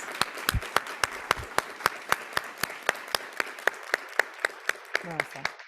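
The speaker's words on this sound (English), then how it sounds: "Let's have a round of applause." An audience at a fall welcoming ceremony for new BSN nursing students applauds, scattered hands giving a steady rhythmic patter of distinct claps, with a voice speaking near the end.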